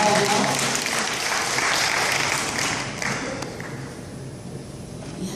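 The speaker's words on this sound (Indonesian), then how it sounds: "Kita sebut dengan tepuk tangan" An audience gathered with guests from Universitas Airlangga applauds Ibu Karyaningsih as she is invited to the front. The steady, full crowd clapping lasts several seconds, then thins and softens toward the end.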